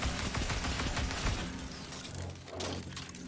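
Rapid gunfire from the Vex Mythoclast in Destiny 2 during a Grandmaster Hollowed Lair run, a dense continuous stream of shots that tapers slightly toward the end.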